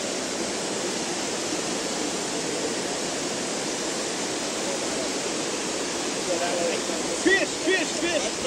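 Steady broadband rush of a waterfall fills the whole clip, loud and constant, on a park trail in Bonito, Mato Grosso do Sul, with a few faint voices breaking through near the end.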